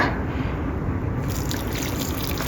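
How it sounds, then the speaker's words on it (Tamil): Water trickling into rice flour for idiyappam dough, a steady close pouring and splashing wash that runs continuously without pause. "இன்னும் கொஞ்சம் தண்ணி தேவைப்படும் கடைசியாக கொஞ்சமாக விடுங்க"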